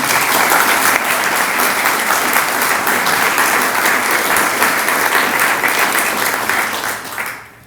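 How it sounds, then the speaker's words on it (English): Audience applause for a poet laureate at a local community event, a crowd clapping loudly and steadily before fading out at the close. "an accomplishment worthy of a round of applause for Miriam"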